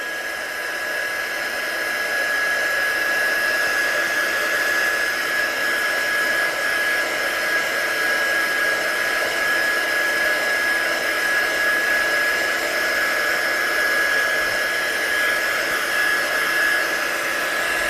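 A heat tool runs steadily for the whole stretch, drying a watercolour card with embossed details, a continuous close whirring blow with a fixed high whine and no talk.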